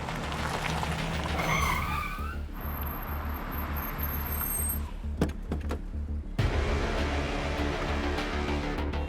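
A car brakes hard in a crime-drama chase, tires skidding and squealing for a few seconds before a sharp thud and steady engine rumble, with no talk.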